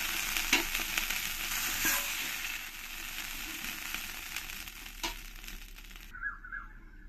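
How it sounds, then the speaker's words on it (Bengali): Pakal fish fry in hot oil in a pan, a steady close sizzle and crackle with occasional stirring scrapes and no voices, ending abruptly near the close. "পরের মাছগুলো আমি ভালো করে ভেজে নিয়েছি"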